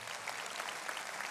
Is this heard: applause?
yes